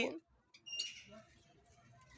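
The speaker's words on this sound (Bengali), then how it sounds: "জাবা পাখি" A java sparrow gives a brief squawk and a few thin chirps nearby, over a low indoor murmur, with a short sharp burst at the very start.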